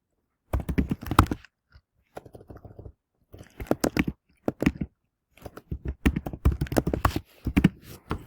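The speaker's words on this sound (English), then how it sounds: "just start typing whatever it is that I want" Keys clatter on a computer keyboard while someone enters text in the Canva design app, coming in short bursts of rapid clicks separated by brief pauses.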